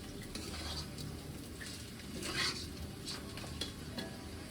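Meat sizzles in a frying pan while a utensil stirs and scrapes now and then against the metal. The frying stays steady and fairly quiet, with no speech.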